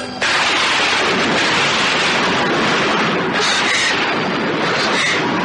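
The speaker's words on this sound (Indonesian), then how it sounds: "Suara petir terdengar tiba-tiba." A loud, sustained rumble of thunder fills the air, broad and rolling, with no voices present.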